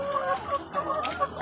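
Chickens at an egg farm cluck in quick, repeated bursts, several birds close together and fairly loud, with no talk over them.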